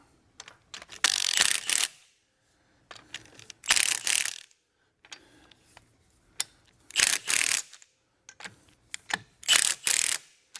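A Milwaukee impact wrench tightens wheel bolts on a Tesla Model 3 in a series of sharp, loud hammering bursts, each lasting about a second, separated by short quiet pauses.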